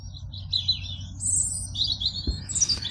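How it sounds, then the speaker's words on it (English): A very energetic blackbird sings outdoors in spring with clear, varied phrases. Bursts of whistled, chirping song come and go over about three seconds above a steady low background rumble, with no speech. "I'm competing with this very energetic blackbird."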